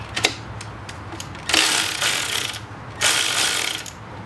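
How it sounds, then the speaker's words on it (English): A ratchet clicks in short bursts as it works the alternator belt tensioner bolt on a 2005 Subaru Legacy, a few quick ticks followed by two longer close, fast ratcheting runs. "you're going to want to undo or loosen the tensioner bolt"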